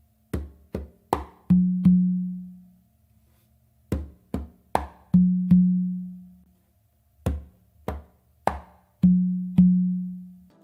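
Conga drums play a tumbao pattern with slaps and open tones on the tumba, repeated three times: quick dry taps lead into two resonant open notes that ring and fade, each phrase followed by a brief pause, close and with no voices.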